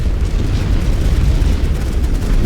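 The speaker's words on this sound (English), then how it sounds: "Our mortars are actually suppressing them from getting in down here." Mortar fire in the First World War strategy game The Great War: Western Front sends out a continuous, loud, low rumble of overlapping blasts and booms with no clear gaps, and no voices are heard.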